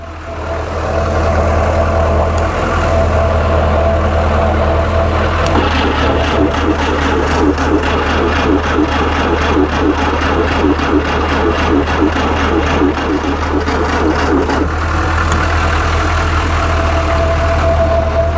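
An M151A1 military jeep engine, just refuelled, runs with a loud, steady low rumble and a faint uneven idle that carries through the whole stretch, close to the listener.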